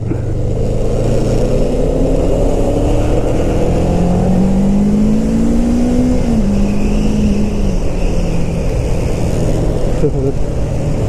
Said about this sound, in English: So it's even rattling up at higher revs as well